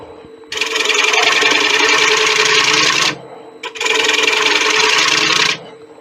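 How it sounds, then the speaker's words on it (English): Sandpaper sanding the inside of a 17-inch acacia wood bowl spinning on a lathe, two long loud steady abrasive passes with a brief pause between them. "Now we'll just sand and finish the inside."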